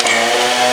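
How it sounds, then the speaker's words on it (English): A chainsaw engine runs loud and close during work on a 1994 Jeep Grand Cherokee, a buzzing, steady snarl over a brief moment. "Brody finally got the chainsaw to start"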